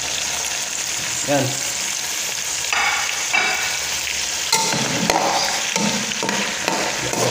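Sliced bitter gourd hitting a pan of sautéing garlic and onion, loud sizzling and frying with stirring clatter and scraping bursts, with a brief spoken word.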